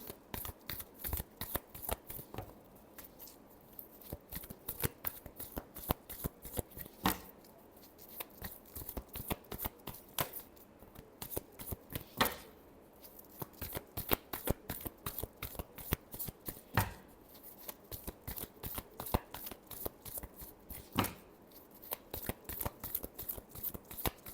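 A deck of tarot cards is shuffled over and over, close up and fairly quiet, in continuous riffling bursts separated by brief pauses.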